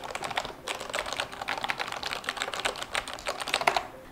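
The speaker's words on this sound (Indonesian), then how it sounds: "Suaranya empuk banget dan gak gitu berisik sih. Dan enak karena MX Red dan juga ini mechanical keyboard," A Corsair K68 mechanical keyboard with MX Red switches is typed on, producing a rapid, continuous patter of soft, muted keystrokes, close and fairly quiet, with no voices.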